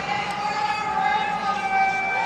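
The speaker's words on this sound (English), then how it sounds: "And you can hear the crowd screaming" Crowd at a men's college volleyball game between Loyola Chicago and Stanford, a loud sustained roar with high, siren-like screaming tones holding steady throughout the arena.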